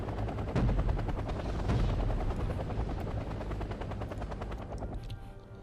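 An attack helicopter fires twin miniguns in the Wargame Red Dragon video game, with rapid continuous gunfire over a loud rotor and engine roar that fades toward the end.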